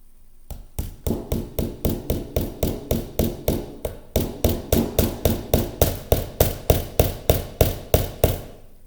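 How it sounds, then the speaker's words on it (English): Small nails are driven into a wooden frame loom with a hammer, about thirty sharp, evenly spaced blows in a steady rhythm with a short pause midway, loud and close with no talking. "hammer it in."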